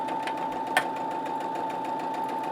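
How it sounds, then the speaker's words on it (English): Sewing machine stitching around the edge of a fabric infinity scarf, a steady fast mechanical whirring hum with rapid regular ticking, close and continuous, plus one brief click. "we're going to sew all the way round, making sure that the edges are together all the way"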